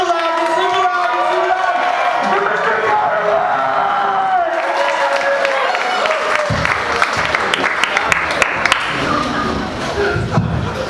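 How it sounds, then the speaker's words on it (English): Comedy club audience clapping loudly and continuously with cheering and whoops, growing denser and rowdier toward the end. "Guys, start clapping super loud"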